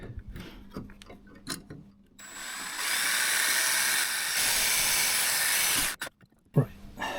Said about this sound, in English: We'll swap to the angle head drill,